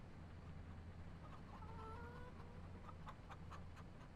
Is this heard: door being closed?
no